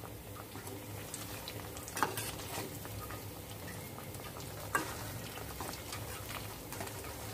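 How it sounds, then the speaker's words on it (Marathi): Sabudana vada deep-frying in hot oil in a kadhai, a steady sizzle and bubbling that holds throughout, with a couple of brief sharper pops and no talking. "खालच्या अंगाने छान वडे तळून क्रिस्पी होईस्तर थांबायचं, वरती थोडे थोडे तेल सोडत राहायचे।"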